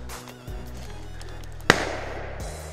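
A single sharp gunshot cracks out during a rabbit hunt in South Louisiana, loud and close, then a short ringing decay over steady low background rumble.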